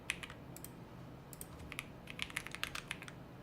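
Keys clatter on a computer keyboard in a typing race, quiet rapid clicks in short uneven bursts with brief pauses between them.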